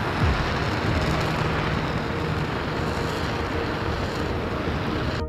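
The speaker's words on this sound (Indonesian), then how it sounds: "We have ignition of NASA's Space Launch System 5-segment solid rocket booster." NASA Space Launch System five-segment solid rocket booster test firing, a loud, continuous broadband roar that holds steady from start to finish with no voices.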